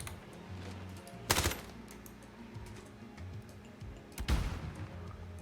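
Two sharp gunshot bursts from the Warzone video game, one near the start and one near the end, each loud and brief over a low, steady game background with quiet stretches in between.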